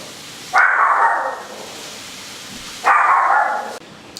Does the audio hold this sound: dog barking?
yes